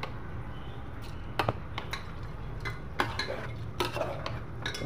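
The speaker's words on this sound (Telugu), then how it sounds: "బాస్మతి రైస్ ఇందులో వేసేసుకోవాలా. ఇలా బాగా కలుపుకోవాలి." Basmati rice being stirred together with masala and chicken for biryani, a steady scraping and stirring with soft clinks of a spoon against the pot, close by, with no voices.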